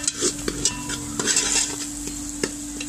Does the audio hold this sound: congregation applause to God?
no